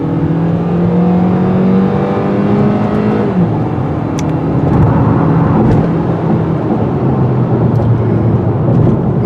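2017 Hyundai Elantra accelerating away and driving on, the engine revving up, dropping at a gear change, then settling into a steady cruising drone with road noise, loud and close from the cabin.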